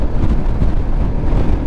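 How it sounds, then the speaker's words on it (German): Steady wind roar buffets the rider on a Royal Enfield Himalayan motorcycle travelling two-up with luggage, a dense low rumble that stays loud and unbroken throughout. "Es ist so ein Wind."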